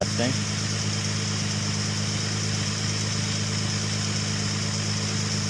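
A 2004 Infiniti G35 engine idles steadily at close range, a constant low hum with firm harmonic tones that hold unchanged throughout, with no other sounds.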